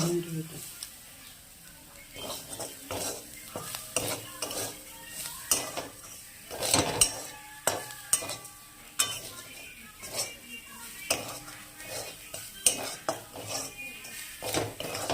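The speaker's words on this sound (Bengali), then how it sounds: "নারকেলটা আমার দেখো নারকেলটা লাল লাল হয়ে ভাজা হয়ে আসছে আর চিনিটাও গলে যাবে" A metal utensil scrapes and clinks against a pan as coconut and sugar fry, with soft sizzling beneath irregular stirring knocks while someone talks over the cooking.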